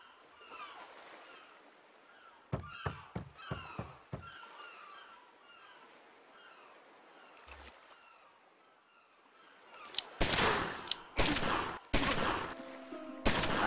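Sharp gunshots from the crime-era strategy game Omerta ring out in a quick burst of several cracks, then a lone shot, then a denser, louder volley near the end over low ambient background.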